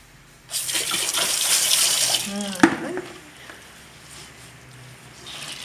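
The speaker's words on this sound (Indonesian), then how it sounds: "Pokoknya sampai bersih, di air mengalir." Tap water runs steadily into a sink while a cloth diaper is rinsed under the flow, with splashing and a brief clatter near the middle before the water fades to a quieter trickle.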